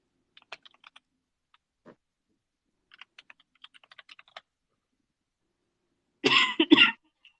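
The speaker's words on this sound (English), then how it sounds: "I know that you're coughing more" A short burst of two or three harsh coughs near the end, after scattered light keyboard typing clicks in an otherwise quiet room.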